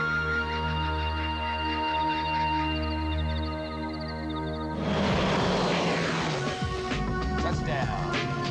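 A light aircraft engine in flight drones steadily with a harmonic buzz, then gives way to a louder rushing, rattling roar as the cabin noise rises. The sound stays close and continuous throughout, and no speech is heard.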